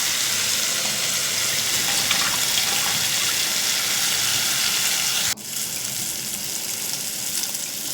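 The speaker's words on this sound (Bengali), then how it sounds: "পরিমাণ মতো জল আমি এখানে দিয়ে দিচ্ছি।" Water poured into a pan of frying fish and potato curry makes a loud, steady, broadband sizzling hiss up close. Partway through it changes abruptly and settles into a slightly softer sizzle, with no talking.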